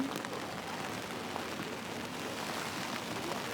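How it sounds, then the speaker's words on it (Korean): Heavy rain pours down on a camping shelter during a storm with strong wind, a dense, steady hiss of drops drumming the fabric without pause, with no talking. "비 너무 많이 와."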